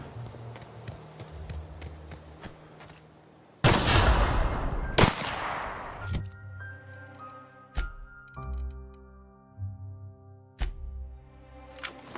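Pistol shots in the video game The Outer Worlds: a burst of loud, sharp reports followed by several spaced single cracks, ringing over a ticking, rhythmic game soundtrack with no talk.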